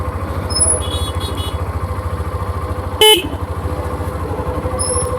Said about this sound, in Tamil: டிராஃபிக்காக இருக்குது